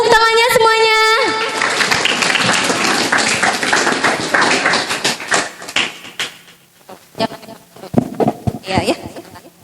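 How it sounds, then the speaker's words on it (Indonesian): Audience applause for a speaker at a digital literacy training session, a burst of dense clapping that thins into scattered claps and tapers off, with a voice briefly heard at the start. "Boleh tepuk tangannya semuanya."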